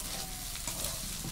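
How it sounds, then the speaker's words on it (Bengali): Rice and vegetables sauté in a hot pan with a steady, close sizzle as a spoon stirs them, a faint scrape coming through near the end, no talking. "চালগুলো সবজির সঙ্গে ভালো করে কষিয়ে নেব"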